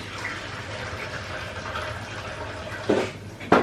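Water runs steadily from a tap in the background with a soft rushing hiss, broken near the end by a couple of short knocks.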